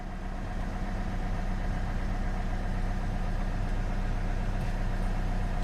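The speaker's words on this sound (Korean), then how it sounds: "방전되기 직전에 시동을 건 거다라고 보시면 될 것 같고" A 2013 Kia Carnival R 11-seat diesel idles steadily after a cold start on a nearly flat battery, with a continuous, even, close engine rumble and no talking throughout.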